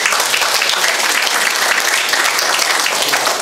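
A congregation at a Christian installation ceremony for a memorial association's new chairman claps loudly and steadily. The applause is dense and sustained, close by, with no gaps.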